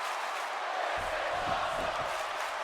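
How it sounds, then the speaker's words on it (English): A WWE 2K19 arena crowd roars and chants during a wrestling match, a steady, dense wash of many voices with a faint rhythmic pulse under it. "Listen to that crowd"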